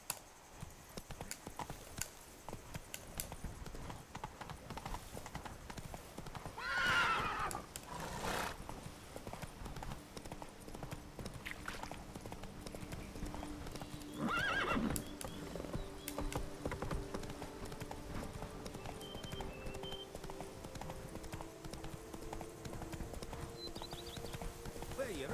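Roach, a horse in The Witcher 3 video game, gallops with steady rhythmic hoofbeats and a brief whinny, while ambient game sounds and occasional voices play underneath.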